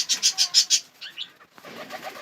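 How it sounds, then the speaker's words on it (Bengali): Pigeons in a home coop where pairs are nesting give a quick run of five rhythmic, fairly close calls, followed by softer, scattered calls and light rustling. "দেখেন কবুতরগুলো দেখেন"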